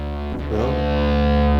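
Bass guitar notes run through a Ghost pedal set to distortion ring out thick and gritty, with a brief pluck and pitch bend before a loud, sustained overdriven drone.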